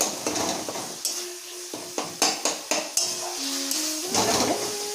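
A metal spatula chops and mashes fried eggplant in a pan for begun bharta, sharp repeated clanks and taps against the pan over a low sizzle and scraping.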